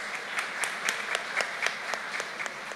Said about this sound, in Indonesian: Boleh dong dikasih aplaus ke panitia